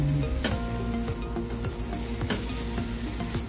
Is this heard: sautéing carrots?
yes